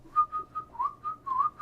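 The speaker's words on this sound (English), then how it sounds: "He was whistling." A person whistles a short tune of a few bouncy notes with slight pitch slides, close and clear, with no talking.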